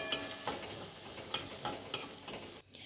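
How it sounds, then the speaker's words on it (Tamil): Cashews, ginger, green chili and curry leaves frying in oil for rava idli, with a steady close sizzle broken by several sharp spoon scrapes against the pan and no talk. "இந்த முந்திரி பருப்பு, இது எல்லாத்தையும் போட்டுட்டு முந்திரி பருப்பு நல்லா செவக்கிற வரைக்கும் வறுக்கணும்"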